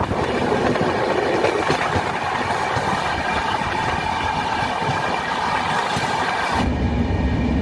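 A loud, steady rumble and rattle of an LHB coach on the Howrah-Ahmedabad Superfast Express running over the rails, heard continuously from inside the carriage, with a sudden shift in tone near the end.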